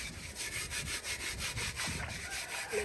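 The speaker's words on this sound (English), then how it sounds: "I'll use sand because sand at least removes the dirt a bit faster" A cooking pot scrubbed with sand in a village, a fast rhythmic gritty rubbing with repeated strokes, close and fairly loud, no talking.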